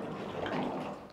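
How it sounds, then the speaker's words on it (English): Water pours from a 1 liter bottle into a jerrycan, a soft, continuous splashing gurgle swelling briefly in the middle, faint and close. "So anytime I put the water inside"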